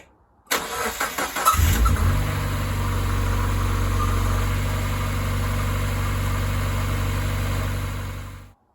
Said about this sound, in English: the engine is running fine